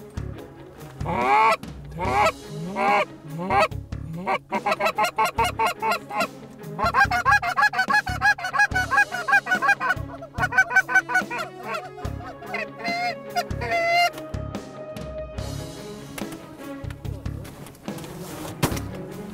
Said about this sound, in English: First bunch of geese ended up in the decoys.